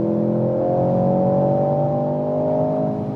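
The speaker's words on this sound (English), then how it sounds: "when you go off the throttle, you also have some plop, plop, plop from the exhaust" A sporty car engine holds a steady, loud, droning hum with a smooth tonal whine throughout; no distinct exhaust pops stand out.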